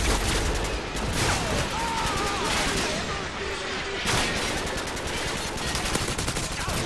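Rapid gunfire in the video game Modern Warfare 2, dense automatic bursts running almost continuously at steady loudness, close and busy, with game noise layered over it.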